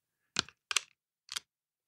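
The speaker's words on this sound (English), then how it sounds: "It just makes such a good clicking sound when you put it on." A magnetic gadget snaps into place with three sharp, close clicks, the first two quick together and the third after a short pause, with no voices.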